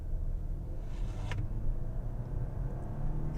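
A 2020 Volvo V60 AWD Cross Country engine winds up steadily under acceleration, a low rumble rising in pitch with a brief whine partway through.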